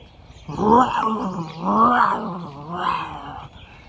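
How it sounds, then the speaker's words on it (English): Deep, rasping roars from male lions fighting over territory, several rising and falling bursts in quick succession, loud and close, with a snarling, aggressive edge. "It seems to be some male lions vying for their territory, having a fight"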